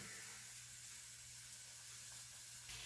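Hamburger patties sizzle in a hot pan for a weekend dinner, a steady hiss with no talk over it.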